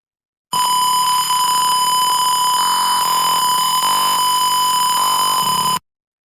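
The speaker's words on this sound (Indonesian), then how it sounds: "Kalau kita dekatkan, maka sensor buzzer dan LED-nya akan menyala." A simulated buzzer in an Arduino circuit running in Tinkercad sounds one continuous, loud electronic tone for about five seconds, starting and stopping abruptly, with no voices.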